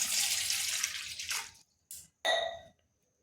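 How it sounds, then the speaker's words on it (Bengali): Water poured from a tap into a bowl of cut cauliflower pieces, a close splashing rush that cuts off, then two short bursts of pouring separated by brief silences. "এখানে নিচ্ছি জল"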